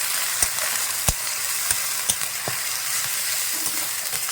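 Chicken with bay leaf and salt fries in a pan, giving a close steady sizzle broken by several sharp clacks of a spoon stirring against the metal.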